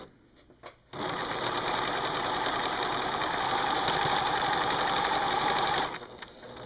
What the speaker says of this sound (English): we're going to fold it over, and then we're going to sew our 1/4 inch there